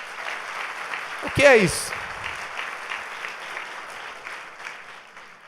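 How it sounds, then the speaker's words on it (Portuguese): A church congregation at a Sunday service applauds Jesus, a steady background wash of clapping that slowly tapers off, with a loud voice briefly speaking over it near the start. "Você quer dar um aplauso a Jesus?"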